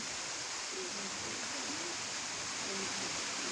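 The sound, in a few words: rain falling on trees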